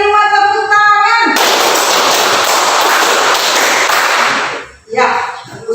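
A class of schoolchildren claps hands during a classroom clapping routine, a loud dense burst of clapping after a sung or voiced passage, stopping abruptly before voices resume.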